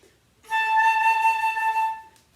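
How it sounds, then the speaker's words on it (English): A single high A flute note held steadily for about a second and a half, clear and fairly loud with a slight breathy edge, then fading out. "This is high A that we'll practice"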